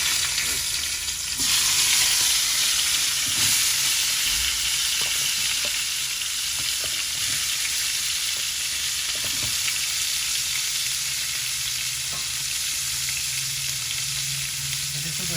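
Cauliflower fries in hot oil in a wok, a dense, continuous sizzle and crackle that stays loud and even throughout, with faint stirring clicks.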